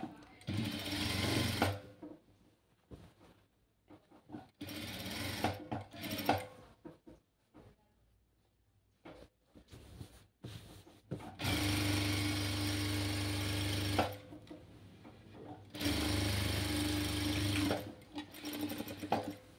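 A sewing machine top-stitches lining and main fabric held together, running in bursts of rapid mechanical stitching that start and stop with quiet gaps between, under occasional talk.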